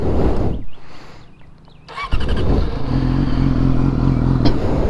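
A Yamaha R6 sport motorcycle with a stock exhaust cranks with a clattering starter, then fires up and settles into a loud, steady idle close by.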